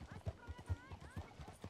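Several horses in the video game Red Dead Redemption 2 clip-clop along a busy street, their hooves giving a steady, rhythmic patter beneath a person's talk.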